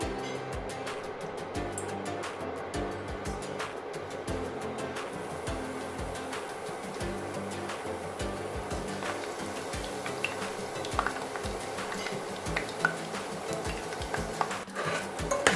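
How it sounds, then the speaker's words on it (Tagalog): Nachos frying in hot oil for homemade nachos, a steady broadband bubbling crackle with faint utensil clinks throughout. "Now it's frying time."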